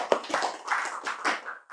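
A short burst of hand clapping from an audience, several quick claps close together, loud and dry.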